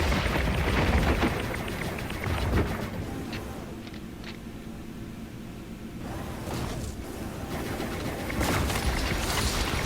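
A structure being blown apart in the shooter game Cobra Strike, with rumbling booms and crackling blasts, loud at first, easing into a lower churning roar, then swelling again with fresh bursts.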